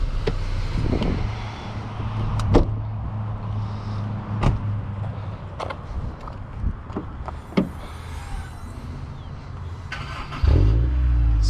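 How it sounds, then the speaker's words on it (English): Car sounds from a VW Tiguan SEL SUV as its hood is popped open: a series of sharp clicks and thunks spread over several seconds against a low steady hum, ending in a louder clunk. "let's give this engine a quick pop and see what's under the hood"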